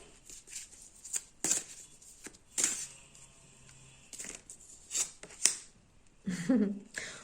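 Tarot cards shuffled and drawn by hand during a French reading: several quick riffling and flicking bursts spaced across the clip, close and moderately loud, with a brief low hum in between and no talk.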